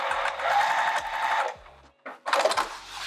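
A sewing machine stitching a zipper pocket onto vinyl: a close, steady motor whir with rapid needle chatter, a brief stop, then another burst of stitching.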